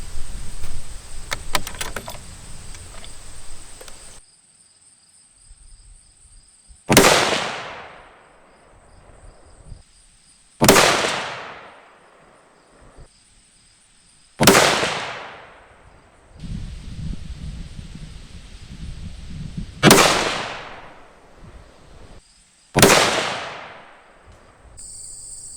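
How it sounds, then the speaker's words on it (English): Six loud rifle shots from a 6.5x55 Swedish fitted with an X-Caliber Remage barrel, each a sharp crack with a decaying tail, spaced a few seconds apart outdoors, with rustling handling noise before the first shot. "I'm going to shoot for group and see how we do."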